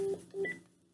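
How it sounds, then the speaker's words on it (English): Two quick keypad beeps of a phone being dialed sound close and clear, followed by a brief higher tone, then fade to quiet. "You won't even let me freaking dial the number."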